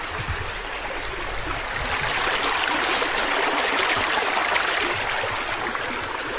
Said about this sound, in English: You hear that running stream?